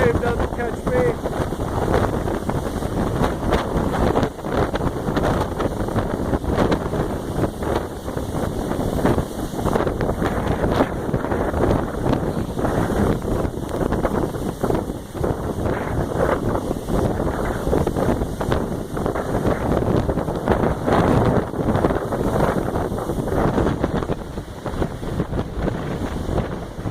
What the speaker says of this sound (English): I don't think the camera does justice for how strong the wind is